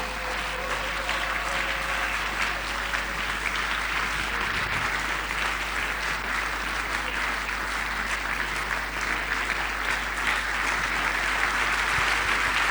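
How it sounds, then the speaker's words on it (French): Church congregation applauding and cheering loudly during a worship service, a dense, steady wash of clapping sustained throughout without letup. "Nous l'acclamons très fort."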